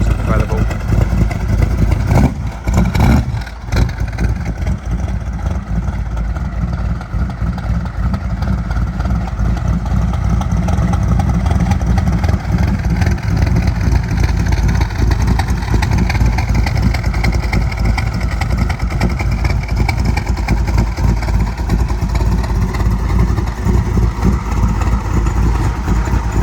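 Ford Mustang Shelby GT500 Eleanor engine running with a deep, steady rumble, loud and close, plus a brief louder burst near the start; a voice talks over it at times.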